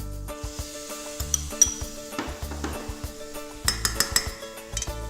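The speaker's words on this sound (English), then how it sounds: "So we're gonna add our tomatoes" Tomatoes going into a pan of sautéing rice for Spanish rice with onion: soft clinks and scrapes of utensils against the pan, with faint sizzling underneath, in several short bursts.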